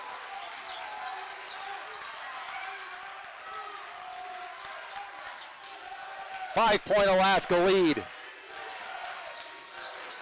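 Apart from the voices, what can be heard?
crowd making noise at basketball game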